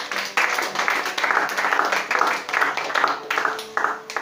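A church congregation applauds with dense, continuous clapping that rises and falls in waves, close and lively, with voices mixed in underneath.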